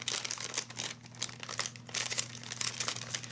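Plastic goodie bag crinkles and rustles continuously as someone handles it and struggles to open it, close up and fairly loud with no talking.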